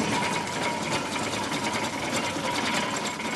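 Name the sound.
early Ivel tractor engine running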